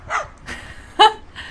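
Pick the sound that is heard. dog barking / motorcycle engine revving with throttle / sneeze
dog barking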